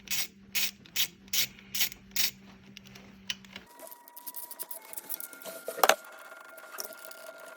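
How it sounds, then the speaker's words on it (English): Ratchet loosening ignition coil bolts on a 2016 Chevy Malibu with the 2 L engine, a run of quick, close clicking bursts in a steady rhythm, followed by quieter metallic handling noises and a single sharp clink. "next, I'm just gonna loosen all these bolts here"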